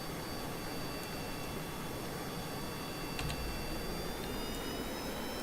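Jet aircraft engine in Kerbal Space Program, a steady broadband roar holding at a constant loud level with faint whining tones and a few brief ticks on top.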